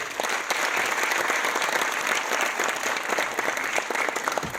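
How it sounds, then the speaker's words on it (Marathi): Audience applause at a Marathi film premiere, dense and steady clapping from a crowd that holds at full strength for the whole stretch, with no talk over it. "सगळ्यांना प्लीज जरा टाळ्या वाजून प्रोत्साहित करूया"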